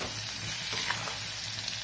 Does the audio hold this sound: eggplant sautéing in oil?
yes